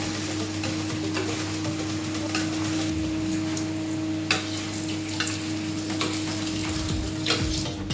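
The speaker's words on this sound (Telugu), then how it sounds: "చూడండి ఇప్పుడు మళ్ళీ ఈ విధంగా మీరు ఫ్రై చేసుకోండి." Chicken changezi fries in butter in a pan with a continuous close sizzle and occasional stirring clinks.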